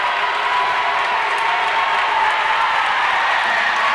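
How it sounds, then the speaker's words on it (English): Steady crowd cheering and whooping fills an indoor pool during a 13-14 girls freestyle relay at a county swimming championship, a continuous loud roar of many voices with no gaps. "The noise behind me is cheering for the lovely."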